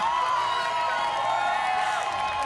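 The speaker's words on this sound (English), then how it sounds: "give them another round of applause" Crowd applause and cheering at an esports match, a steady, dense roar of clapping and whoops heard from a distance, continuous throughout with no break.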